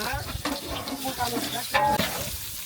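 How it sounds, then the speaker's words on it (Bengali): Ground garlic, cumin and ginger paste fries in hot oil, sizzling and crackling under a cook's stirring scrapes, with a few brief clinks as the pan is worked. "বাটা মশলা ভাজা হয়ে গেছে"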